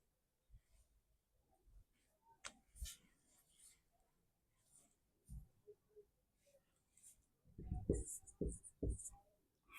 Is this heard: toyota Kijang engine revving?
no